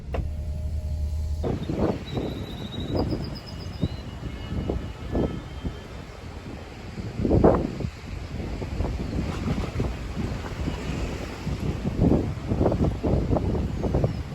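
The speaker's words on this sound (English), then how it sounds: "It's so windy down here." Strong coastal wind at Paul do Mar, Madeira, buffets the microphone in repeated low, rumbling bursts, rising and falling irregularly, with a steady whooshing wind underneath.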